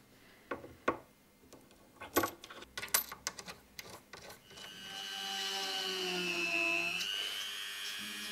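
A bone guitar nut is worked with a saw in a luthier's shop: a few sharp scraping clicks, then a sustained high whine like a dentist's drill that rises and fades over several seconds.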